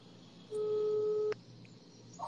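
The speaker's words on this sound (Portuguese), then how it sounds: "Tá chamando de novo." A telephone call tone sounds as a single steady electronic beep lasting under a second, fairly clear over a faint background hum, with a brief click as it cuts off.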